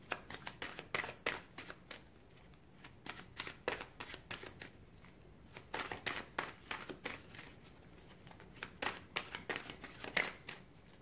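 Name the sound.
shuffling tarot cards during a reading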